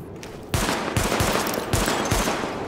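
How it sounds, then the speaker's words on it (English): Rapid, loud sidearm shots fire at targets in the video game Tom Clancy's The Division, in a dense burst of close gunfire with a few brief pauses between volleys. "Up and fire at the highlighted targets."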